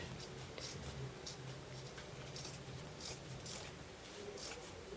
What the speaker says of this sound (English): you can see I'm cutting right next to the seam here